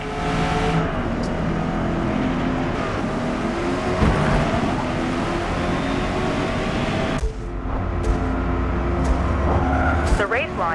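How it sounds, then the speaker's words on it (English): Corvette E-Ray racing at the Maple Valley track in Forza Motorsport: a loud engine roar rises and shifts through the gears, with tire squeal and skidding, other cars audible and voices talking over it. "Maple Valley is the perfect track to put the new Corvette E-Ray through its paces."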